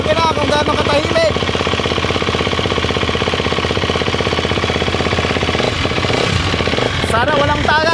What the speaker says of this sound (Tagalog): pakinggan yung makina kung gaano katahimik.